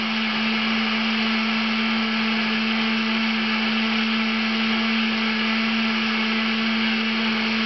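A blender whirs steadily while pulping paper, one continuous loud motor drone with a strong hum, holding unchanged from start to finish with no pauses and no voices.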